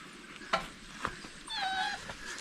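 A puppy whimpers after a fall outdoors near a pond, giving a few soft thin whines and yelps with light knocks beforehand, faint against background hiss.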